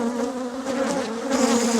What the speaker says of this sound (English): You guys probably can't even hear me over the bees attacking the microphone